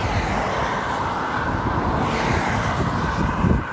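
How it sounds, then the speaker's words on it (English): Cars passing on a road, a continuous roar of close traffic and wind rushing past the microphone, swelling slightly as a vehicle goes by near the end. "I got to speak real loud now, all these cars coming up."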